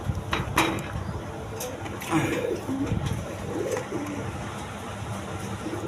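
Big-sized pigeons kept for sale coo softly in low repeated calls, close and fairly faint, with scattered rustling and light background noise.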